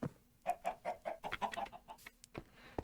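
Chickens clucking in the Minecraft modpack StoneBlock 3, a string of short, evenly spaced clucks close by, with a faint steady hum underneath.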